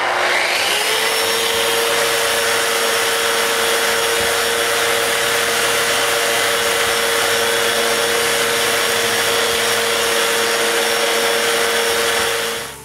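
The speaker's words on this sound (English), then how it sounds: "The sides are sanded with an inflated sanding drum." A continuous high-pitched whine of an inflated sanding drum sanding wood runs steadily for several seconds, loud and close, then cuts off at the end.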